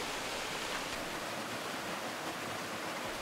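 A low-drop waterfall in Fukui roars steadily up close, its spray giving a continuous, even rush of water with no pauses.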